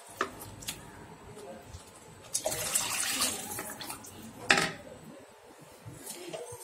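Water is poured into dal for a Tamil pithukku paruppu kuzhambu, a brief splashing gush in the middle, surrounded by faint clinks of a utensil and pot in a quiet kitchen.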